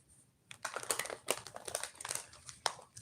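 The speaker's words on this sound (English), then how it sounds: "Oh, them cards didn't even want to shuffle." Tarot cards being shuffled, a soft, quiet papery riffling and crinkling in uneven bursts close by, with no talking over it.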